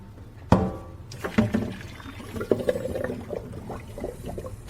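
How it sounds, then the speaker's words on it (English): Boiled potatoes are drained with a sudden splash and clatter at the start, then water pours and trickles off in uneven bursts, close and fairly loud. "So the potatoes are done. Drain them."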